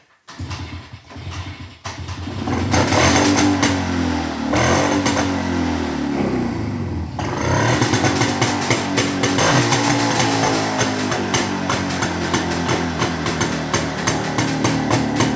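A Jawa motorcycle engine catches after cranking and settles into a loud, close, steady running beat with a rapid pulsing exhaust, carrying on without pause through the rest of the clip.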